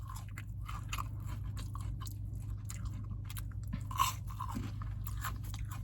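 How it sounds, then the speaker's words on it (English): Crunchy Burger King dessert sticks dusted with powdered sugar being chewed close to the mic, giving steady crisp crunching with one sharper bite near the middle over a low background hum. "do you hear the crunch?"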